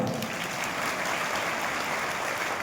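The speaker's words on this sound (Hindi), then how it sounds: "अब तो ताली बजा दो।" Audience clapping during a Guru Purnima sermon in Jabalpur, a dense continuous patter of many hands that stays even and moderately distant throughout.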